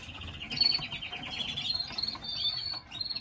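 Pet topaz bird in an indoor bird room giving a run of rapid high chirps and tweets, close and fairly clear over a low background rumble, with a few softer calls after.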